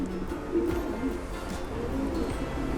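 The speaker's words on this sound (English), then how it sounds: "This is one of my main pigeons at the moment." Racing pigeons in a loft give soft, repeated cooing calls close by, a steady murmur of overlapping coos with no talking.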